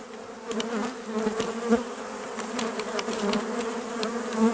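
Honey bees swarm around a hive as a nucleus colony is moved into a full hive outdoors, making a dense, steady, close buzz with individual bees whizzing past.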